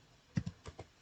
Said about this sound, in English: So let's type here